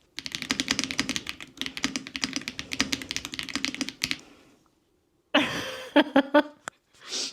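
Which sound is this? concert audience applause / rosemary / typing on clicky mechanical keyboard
typing on clicky mechanical keyboard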